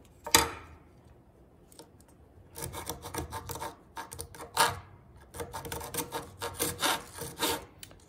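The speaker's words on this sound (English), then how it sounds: "I want the kerf of the blade to actually go through the line" Hand saw cutting wood along a marked line for a 1:12 scale model shed, with crisp, close rasping strokes: one sharp stroke, a pause, then a quick, steady run of short back-and-forth cuts.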